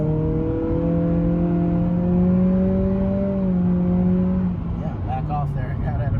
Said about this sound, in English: Now wide open throttle.